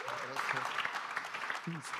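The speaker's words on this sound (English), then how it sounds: "That is a round of applause for her, please." Audience applause at a startup policy summit session, brief clapping over about two seconds heard faintly while a voice talks over it.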